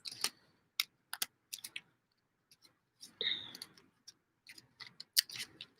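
Tarot cards are shuffled by hand, producing close, sharp clicking and riffling bursts separated by brief pauses, irregular in rhythm, with no talking.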